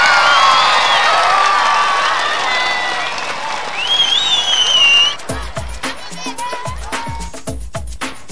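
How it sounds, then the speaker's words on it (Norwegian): Crowd at a Norwegian youth camp opening cheers and applauds loudly with whistles and shouts for about five seconds, then breaks into scattered rhythmic clapping as voices call out. "Gi dem en skikkelig applaus!"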